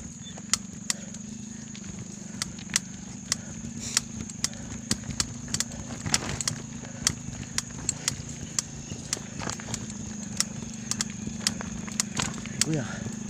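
A motorcycle engine hums steadily on a rocky road, with a sharp clicking and rattling that repeats throughout the ride.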